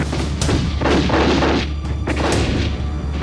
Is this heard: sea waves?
no